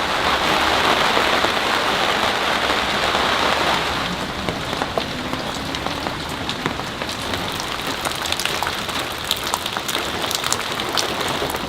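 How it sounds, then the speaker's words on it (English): Steady rain falling outdoors in October, a dense hiss of drops pattering on surfaces, heavier at first and then easing into scattered distinct drips. "and then it started raining"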